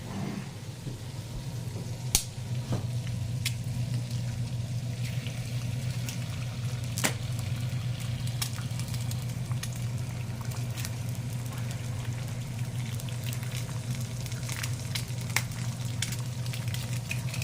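Eggs fry in a pan with sausage and grated butternut squash on a home stove, a steady soft sizzle throughout with a few sharp clicks of a utensil against the pan.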